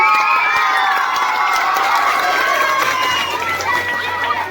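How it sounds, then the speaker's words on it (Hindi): An outdoor political rally crowd in heavy rain roars and cheers with scattered clapping, a loud, steady wash of many voices that fills the clip without pause. "आप जोरदार ताली बजाइए प्रशांत जी के लिए"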